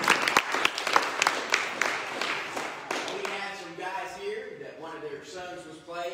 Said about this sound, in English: let's just give those that helped yesterday a round of applause